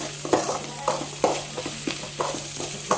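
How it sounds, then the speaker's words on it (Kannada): Ingredients frying in a pan for white sauce pasta, with a steady sizzle and a low hum throughout, broken by regular scraping strokes as the food is stirred, close and alone. "ಇವಾಗ ಇದನ್ನು ಸ್ವಲ್ಪ ಫ್ರೈ ಮಾಡ್ಕೊತೀನಿ"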